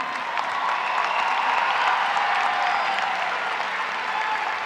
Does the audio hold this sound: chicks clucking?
no